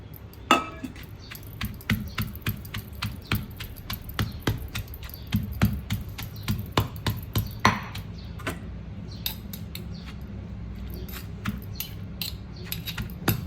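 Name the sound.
pounding ingredients in mortar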